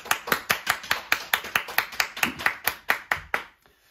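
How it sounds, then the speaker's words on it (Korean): A small church congregation claps together to celebrate members' birthdays during an online Sunday service, rapid uneven applause for about three seconds before fading out, with no talking. "우리 다 같이 박수로 축하하겠습니다"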